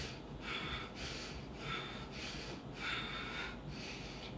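Rhythmic breaths out during a vinyasa yoga class, seven soft airy exhales in an even cadence, quiet and close with no talking.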